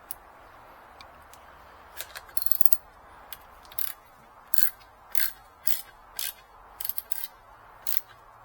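A ratchet tightening a Toyota TPMS sensor, heard as short bursts of close clicking that come in irregular spurts with brief pauses between, fairly faint against a quiet background.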